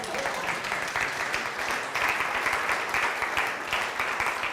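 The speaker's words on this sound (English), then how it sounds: "Now you can clap." Audience applause after a lecture, a steady dense clapping from a large crowd that holds at an even level throughout.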